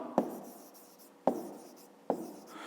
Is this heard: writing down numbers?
yes